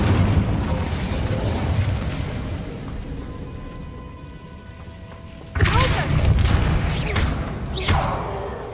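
The Incendio fire spell in Hogwarts Legacy goes off as a sudden fiery burst and whoosh over rumbling battle ambience, with a second flare shortly after.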